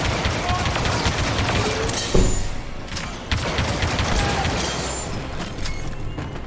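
Rapid blaster and gunfire bursts from the Star Wars Battlefront 2 video game, a dense, continuous barrage with sharper hits standing out, heard under a voice talking.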